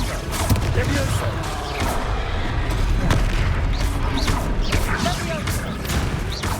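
Confringo spell explosions in the wizarding game Hogwarts Legacy, with repeated sharp blasts and crackling impacts over a dense, loud combat din.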